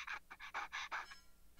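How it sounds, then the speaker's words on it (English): Rapid, heavy panting from a person, six or seven sharp breathy puffs in quick rhythm, close and fairly quiet, fading into a brief pause at the end. "Why are you panting like a dog?"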